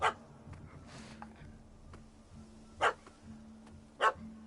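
A puppy in a video game barks in short, sharp yaps, three or four spaced barks over a quiet hum of game background.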